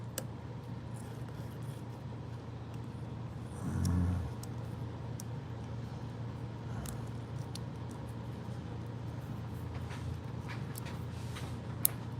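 A steady, even motor hum runs continuously with a low drone, a brief louder surge near the start, and a few light ticks on top.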